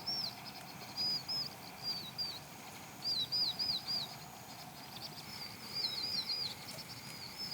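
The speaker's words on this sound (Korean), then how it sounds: "풀벌레 새소리? 풀벌레." Small birds on an island give quick, high chirping phrases in repeated bursts, faint and at a distance, over a low steady outdoor hum with insects.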